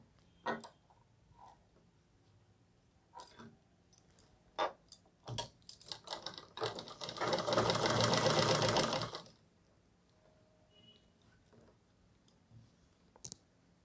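Sewing machine stitching around the curve of a round collar suit, scattered clicks and handling taps before a loud continuous whirring run of about two and a half seconds, then more soft clicks in a quiet room.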